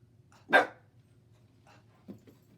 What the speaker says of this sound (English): that was my dog you just heard bark too